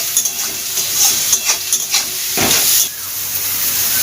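Onions fry over a high flame for a Bengali mushroom dish, giving a loud, steady, close sizzle broken by stirring scrapes and short bursts of spitting oil.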